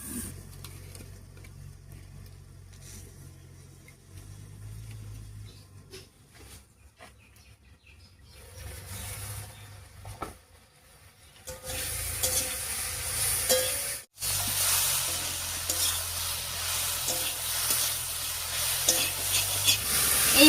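Dudh kochu with dried fish cooks in a pan, giving a close, continuous simmering sizzle with occasional stirring sounds. The sizzle grows louder and brighter in the second half, with no talking.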